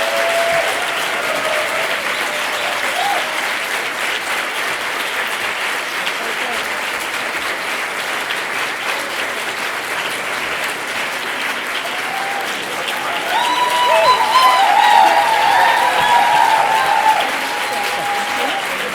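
Sustained audience applause fills a lecture hall after a dissertation prize is awarded, a steady dense patter lasting throughout and swelling louder near the end, with faint voices mixed in.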